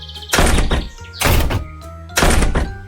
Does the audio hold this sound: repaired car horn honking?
no